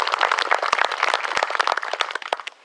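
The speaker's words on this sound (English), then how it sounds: "So I would like us all to give them a round of applause" Audience applause at a memorial event for Jean Luc Deba, a dense, steady wash of many hands clapping that carries through and tapers slightly near the end.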